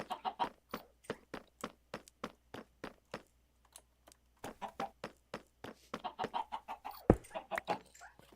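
Minecraft chickens clucking, a rapid rhythmic series of short sharp clucks that briefly thins out before picking up again, with a single sharp click near the end and no talk.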